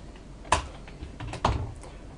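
A computer keyboard clicks as code is typed, with two distinct keystrokes about a second apart over a quiet background.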